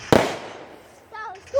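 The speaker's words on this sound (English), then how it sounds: "I can believe they do a fireworks by my house." A single sharp firework bang bursts close by near a house, then decays into a fading crackle, with a person's voice briefly heard afterward.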